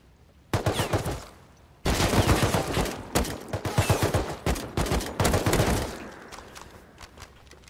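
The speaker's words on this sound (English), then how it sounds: "Who's shooting me?" Gunfire aimed at the player in Rust arrives in heavy automatic bursts, a short volley first, then a longer sustained string of loud close shots that trails off toward the end.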